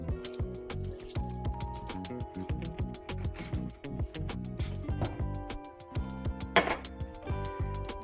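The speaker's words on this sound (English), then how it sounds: "Put a little milk in here." Milk trickles and splashes into a pot on a home stove, a series of close, soft liquid pours and drips with small clinks, fairly quiet and without talk.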